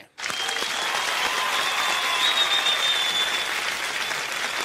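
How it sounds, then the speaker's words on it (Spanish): Dense, loud audience applause at a Spanish-language stand-up comedy show, starting abruptly and holding steady throughout as a continuous wash of clapping. "aplauso a papá Dios bien fuerte."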